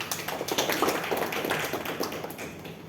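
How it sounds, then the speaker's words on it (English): Applause rings out from a meeting audience for a speaker, a dense, steady patter of many hands clapping close by for a few seconds, no voices heard. "Please, round of applause for Jane Medley."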